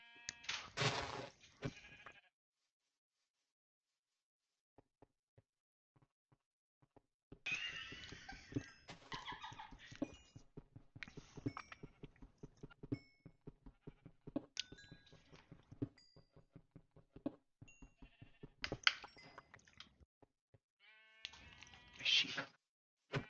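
Blocky sheep in the video game Minecraft bleat several times, nearby and moderately loud, in short bursts with gaps of quiet between them, mixed with game sounds and a few spoken voices.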